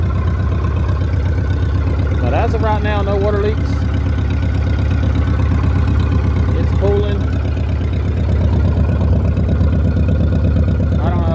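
Ferguson TO30 tractor engine idling steadily and loudly close by, a constant low throbbing drone running throughout while someone talks over it.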